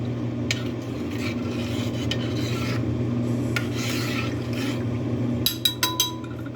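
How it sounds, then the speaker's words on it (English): A spoon slowly stirs egg flower soup in a pot, a steady scraping and swishing of liquid against the pot with a low background hum, ending in a few sharp knocks of the utensil. "you're going to want to slowly stir this"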